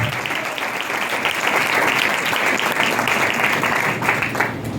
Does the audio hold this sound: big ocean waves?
no